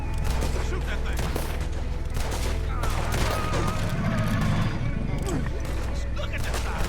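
Gunfire from a Red Dead Redemption 2 gator fight, with repeated loud shots and fusillade bursts over constant game noise and a horse neighing, while voices shout over the action.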